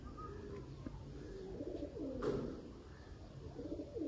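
Pigeons coo in repeated soft, throaty phrases, fairly close, with several overlapping calls rising and falling over a low background.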